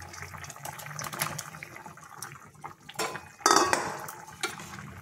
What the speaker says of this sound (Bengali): ফুটে উঠেছে, এবার বড়াগুলো দিয়ে দেব।